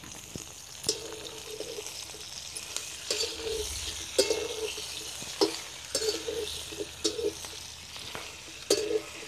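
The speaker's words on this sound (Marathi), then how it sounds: "आपण आता त्याच्यामध्ये लगेच भेंडी टाकून घेणार आहे. भेंडी आपल्याला छानपैकी परतून घ्यायची आहे." Okra stir-frying in ghee with cumin in a wok over a village-style wood stove gives a steady close sizzle, broken by repeated scraping and clattering strokes of the spatula.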